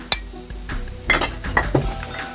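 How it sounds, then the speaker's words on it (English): A first pour of Penelope bourbon going into a glass infinity bottle, heard as a few sharp glassy clinks and knocks followed by soft liquid splashing, close and fairly quiet. "Pour the first pour into the infinity bottle."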